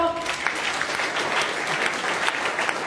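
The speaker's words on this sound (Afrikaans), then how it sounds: "gee hom weer 'n lekker hande klap" Audience at a church event breaks into steady, dense applause, a continuous wash of many hands clapping fairly close and loud throughout.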